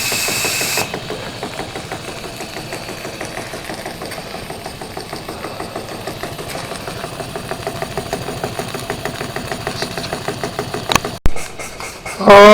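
A small gas-fired steam oscillating engine runs with a steady, rapid mechanical chuffing and clatter, close and fairly loud, with a brief sharper burst near the end.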